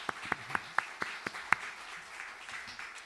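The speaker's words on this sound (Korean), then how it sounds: "우리 박수 한번 격려하겠습니다." A small church congregation claps during a Pentecost service, a handful of distinct claps spaced about a quarter second apart that thin out into quiet room noise after about a second and a half.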